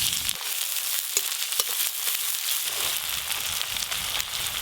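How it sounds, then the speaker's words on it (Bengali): Chopped onion sizzling and frying in hot oil with whole garam masala, a loud steady crackle close by with a few faint stirring scrapes and no talk. "এবার দেব পেঁয়াজ কুচি"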